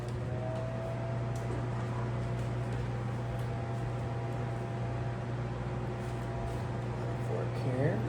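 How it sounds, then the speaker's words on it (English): A microwave oven hums steadily while heating butter, a constant low drone with fan-like hiss running for several seconds, fairly close and moderate in level. "Pop this in the microwave."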